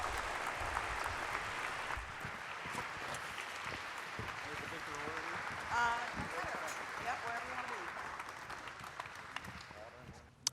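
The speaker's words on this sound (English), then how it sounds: "Round of applause." Audience applause for Detroit Lions players at the team's annual kickoff meeting, a steady wash of clapping from a large crowd in a hall, with murmuring voices underneath throughout.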